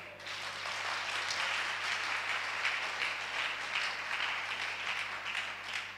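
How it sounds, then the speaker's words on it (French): A church congregation at a Sunday service applauds together, a dense, steady wash of clapping that stays fairly even for several seconds, heard from within the room with no speech over it. "Acclamons pour elle."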